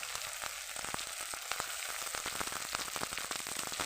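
Kalbasu fish pieces fry in hot oil in a pan, a steady close sizzle with rapid crackling pops spread throughout, no voices over it.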